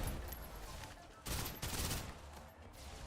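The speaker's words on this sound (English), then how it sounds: "the enemies are starting to shoot me now" Rapid enemy gunfire in a video game, dense bursts of shots crackling continuously at moderate loudness with a sharper volley midway, no talking over it.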